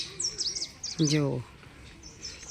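Parrots chirp and tweet in high, quick calls at the Junagadh zoo aviary, with a voice briefly speaking over them and faint outdoor background.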